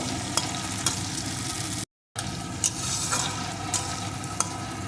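Chopped tomato fries in a pan for a Bengali katla fish curry with potol and potato, a continuous close sizzle broken by a few sharp stirring scrapes and one brief moment of silence.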